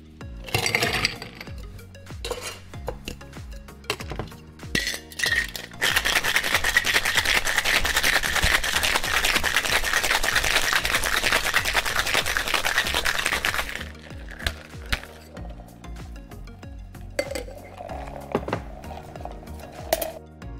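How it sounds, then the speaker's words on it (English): Ice rattles hard inside a cocktail shaker as a lime-juice cocktail is mixed, a loud continuous churning clatter in the middle with scattered clinks and knocks before and after. "Then add ice to your mixing glass and give it a really good shake."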